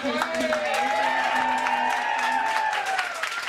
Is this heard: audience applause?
yes